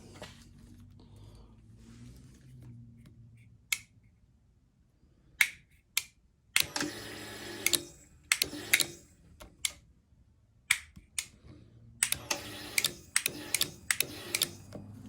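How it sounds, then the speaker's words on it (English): Relay clicks from the automatic shutdown (ASD) relay on a 1970 Cuda with a Gen 3 Hemi on an engine stand: sharp, isolated ticks at irregular intervals, with a few dense bursts of rapid clicking, close and fairly loud over a quiet background. "I believe my ASD is still clicking."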